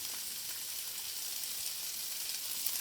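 Coarsely chopped red onions sizzle in olive oil inside a Remoska cooker, giving a steady, even hiss of frying throughout, with no talking.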